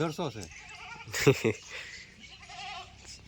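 A red-necked Nizampuri (Kathiawari) sheep bleats nearby, a short wavering cry, while a person talks briefly around it.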